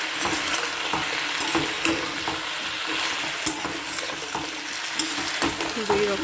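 Vegetables cook in a pot alongside rice, giving a steady, close sizzling and frying hiss broken by repeated stirring scrapes and light clinks, with little talk.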